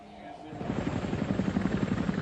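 Cobra helicopter gunships lift off from a makeshift airbase near the Kuwaiti border during the Gulf War, rotor blades building into a loud rhythmic chop, with a narrating voice partly over it.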